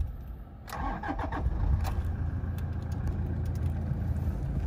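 A 2014 Toyota Hilux SR engine cranks briefly and catches, then settles into a steady, close idle with a low rumble; no talking.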